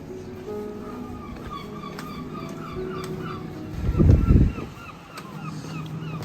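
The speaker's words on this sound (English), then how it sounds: "sound of seagulls, because there are seagulls." Several seagull calls ring out repeatedly over a steady low rumble of wind and water at a small coastal harbour near Looe, with a louder low burst of noise midway.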